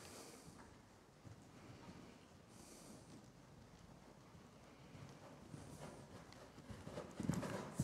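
Horse cantering during a classical riding lesson in an arena, with a soft, steady rhythmic hoofbeat that stays faint and distant under wind noise, and a louder scuffing toward the end.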